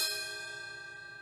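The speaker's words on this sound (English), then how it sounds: "What does it sound like when you hit the cowbell?" A single struck drum-kit cowbell rings out on its own, bright and metallic, with a long, slowly fading sustain and no talk over it.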